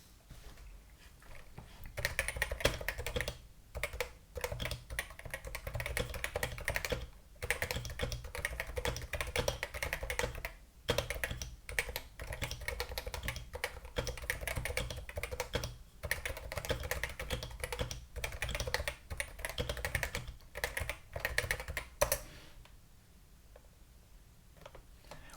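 Someone types steadily on an untweaked URSA mechanical keyboard kit, producing fast, dense, clacky keystrokes with brief pauses between bursts, fairly close and alone, ending in near silence.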